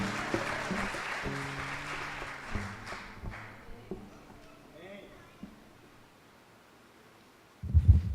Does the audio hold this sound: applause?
yes